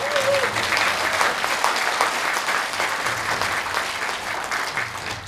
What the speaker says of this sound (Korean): 박수 치는 분이 많지 않으신데